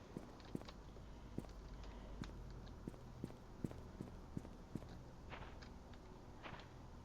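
Footsteps in the video game The Painscreek Killings thud in a regular walking rhythm against a quiet, faintly hissing background, each step a soft, distinct knock, with no speech.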